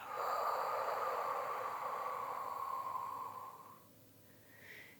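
A long, slow exhale during a mindful yoga breathing exercise, a steady soft airy breath lasting several seconds before tapering off, then a faint brief sound near the end; close and quiet, with no talk.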